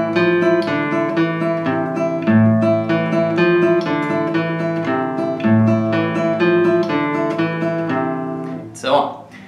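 Acoustic guitar playing the Asturias lick at a faster tempo, rapid plucked notes alternating over a ringing open-string pedal point, bright and close, ending with a quick strum or scrape.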